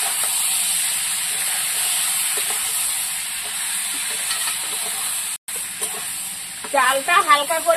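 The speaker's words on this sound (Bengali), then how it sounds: "চালটা হালকা করে 2 মিনিট ভেজে নেব।" Soaked rice being fried in a pan for hilsa pulao, a steady hissing sizzle with occasional stirring, a momentary cut, then a voice at the end.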